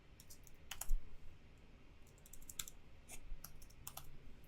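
Computer keyboard typing while entering an Excel formula, several faint close key clicks including a spacebar press, in scattered short bursts against a quiet room.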